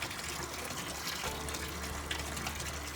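Water swishes and churns steadily in a walk-in tub as someone marches in place, lifting the legs up and down, a continuous close wash with no talk.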